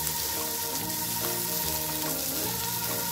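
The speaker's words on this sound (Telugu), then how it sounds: "ఆనియన్స్ ఇలా కొద్దిగా వేగిన తర్వాత" Onions frying in a pan give a steady, close hiss and sizzle under a continuous bed of background music, with no clear breaks.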